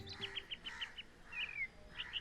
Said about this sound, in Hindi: सुबह चिड़ियों की आवाज